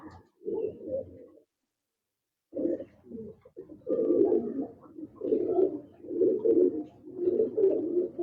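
Pigeons coo steadily in low, throaty rolling phrases, repeated one after another after a brief silence, close and moderately loud.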